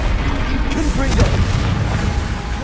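Booming magical blast from the Confringo fire spell in Hogwarts Legacy, a dense continuous rumble with crackling bursts in the middle of a busy spell-casting fight.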